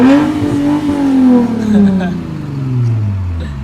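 A Lexus IS with an RC-F seat fitted is driven, its engine droning steadily and rising and falling in pitch, with people talking over it inside the car.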